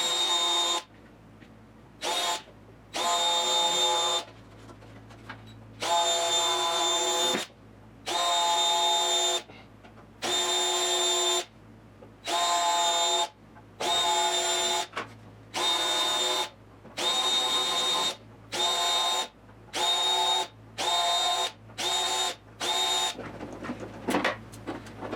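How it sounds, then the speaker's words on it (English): A small power drill whirs in repeated short bursts, drilling small holes in the door of a 1972 Triumph GT6, with brief pauses between them, close and fairly loud, the bursts quickening toward the end. "I think I drill little holes here."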